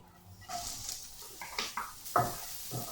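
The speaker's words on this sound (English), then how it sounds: "It's always important to add onion and garlic or all your ingredients into a hot pan so that you can hear that sizzling" Garlic and onion hitting hot melted butter in a pan for mushroom risotto, a steady quiet sizzle with a few sharper spits and crackles as the ingredients land, and no voices.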